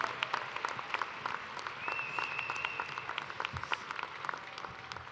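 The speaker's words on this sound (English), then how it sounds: "Can we give them a round of applause, please?" An audience at a multicultural graduation ceremony applauds with steady, dense clapping that carries on throughout, moderately distant in a large hall, with faint murmuring under it.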